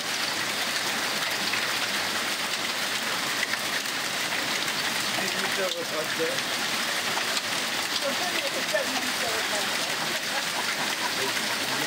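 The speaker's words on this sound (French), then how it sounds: "20 juillet, c'est la grêle, voilà." Hail pelting down steadily on a permaculture vegetable garden in July, a dense, continuous hiss and patter of hailstones striking the ground and plants, close and even throughout with no let-up.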